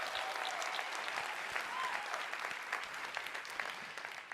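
A convention audience at the 2023 ASEA Global Convention breaks into loud, sustained applause: many hands clapping in a thick, continuous roar with scattered sharper claps standing out, lasting several seconds.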